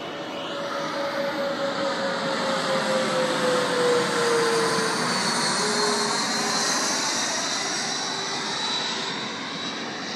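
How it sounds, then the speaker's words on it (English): An airplane passes overhead on a clear day, its steady engine roar swelling to a peak near the middle and then receding slowly, loud and continuous with no talking. "here comes another plane."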